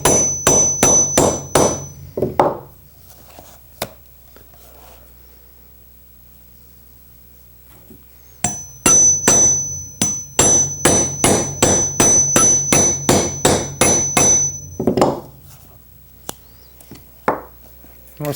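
Motorcycle seat foundation material laid over an anvil and cardboard is punched with a hammer in quick runs of sharp, loud, close blows, a pause in the middle, then another steady burst of strikes.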